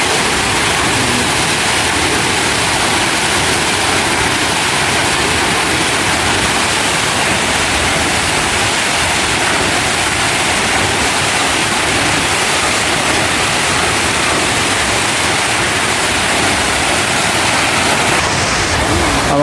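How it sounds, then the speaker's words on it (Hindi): Water pours steadily down the spillway at Hatta Dam, a loud, dense rushing roar that holds unbroken and close for the full length, with no talk over it. "ऐसा पानी गिरता हुआ ऐसे ही खूबसूरत लगता है, कैसे गिरता जा रहा है और आगे चलता जा रहा है।"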